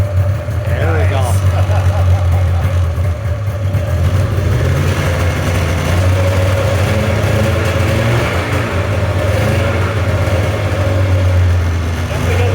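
A 1996 Polaris Classic Touring snowmobile engine runs steadily at idle, close by, with a continuous low rumble; a voice talks over it at times.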